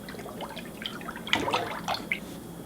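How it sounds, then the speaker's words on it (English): Water sloshing and dripping as a pumpkin soaks in a container of bleach water, a few scattered splashes and trickles at close range over a quiet background. "I am going to wash it in some bleach water right here"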